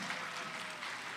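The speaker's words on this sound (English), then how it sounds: "Give yourselves another round of applause." A pageant audience gives a brief burst of even, continuous clapping that sounds close and moderately loud.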